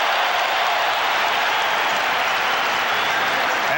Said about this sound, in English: Will Perdue hears it from the crowd